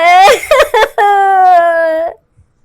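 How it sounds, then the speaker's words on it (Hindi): In an animated Hindi horror story, a woman character wails loudly and close up, with broken sobbing bursts that stretch into a long, drawn-out crying moan before falling silent. "पड़ोस से भी रोने की आवाज आती है"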